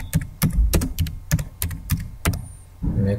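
Fingers tap out a short search phrase on a computer keyboard, a quick run of about nine crisp, close keystrokes in uneven rhythm with a brief pause near the end.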